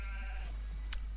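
A sheep bleats in the video game Trakie Lopi 3D, a short wavering cry with a quick sharp noise just after it, heard on its own with no talk.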